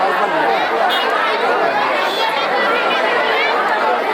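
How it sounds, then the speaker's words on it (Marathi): Dense crowd chatter at Jejuri temple: many overlapping voices forming a steady, loud murmur close around, with no pauses throughout. "हे बघा गर्दी बघा"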